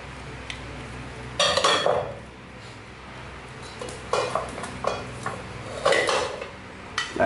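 Japanese kitchen frying pans and a detachable pan handle being handled, bursts of metallic clanks and clinks in separate clusters over a quiet background, with no talk.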